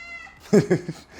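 A house cat meows three times in quick succession, close and fairly loud, with a quieter lead-in and low room noise around it.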